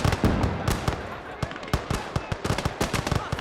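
Italian artillery cannons fire in a Total War video game battle of Italian Alpini against Hungarians at the Isonzo, a ragged string of sharp booms and cracks at varied distances, with voices talking over them.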